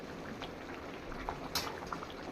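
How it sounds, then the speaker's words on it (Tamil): Crab curry simmering in a pot gives off a steady, soft bubbling hiss with a few brief pops and splutters breaking through, heard up close with no one talking. "நண்டு குழம்பு நல்லா வந்து கொதிச்சு வந்துருச்சு பாருங்க."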